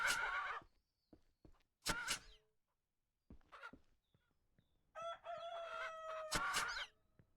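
Chickens and roosters in the ranch video game Ranch Simulator, loud bursts of clucking and a rooster's crowing call, separated by brief quiet gaps, with the crowing drawn out near the end.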